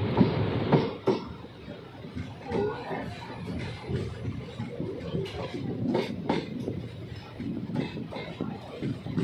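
A train halts at Osian station (code OSN) in the Jodhpur railway division of Rajasthan, giving off rumbling, clattering carriage and platform noise with scattered clicks and a brief squeal, fairly close and continuous.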